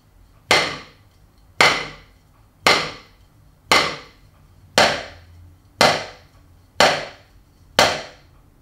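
A snare drum press buzz struck with too much force: eight loud, sharp hits at an even pace, each with a hard initial attack that decays quickly, with no voices.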